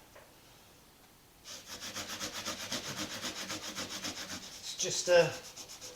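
An abrasive pad scrubs hard across the very dirty frets of a classical guitar during a refurbishment, a close, rhythmic back-and-forth rubbing that starts after a quiet moment and continues steadily, with a brief word spoken near the start.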